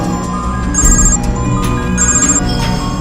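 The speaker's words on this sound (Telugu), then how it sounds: "ఆడి ఫోన్కి డిఎస్పీ ఫోన్ చేస్తున్నాడు అన్నా" A mobile phone rings with an incoming call, its ringtone melody repeating steadily and loudly for several seconds over a busy background.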